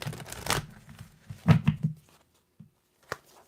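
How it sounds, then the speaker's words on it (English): Tarot cards are shuffled by hand in a few quiet, brief bursts of riffling and flicking, separated by pauses and ending in a single sharp tap. "One more shuffle for our wonderful Libras"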